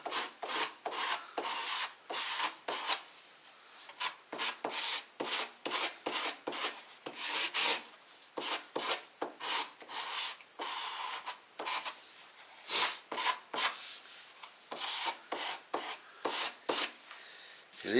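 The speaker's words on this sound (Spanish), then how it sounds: "una lija del 120 o del 220" Sandpaper of 120 or 220 grit rasps along the edge of a melamine furniture panel to round a hidden handle, in quick back-and-forth strokes that are close and steady for a long run with no talk.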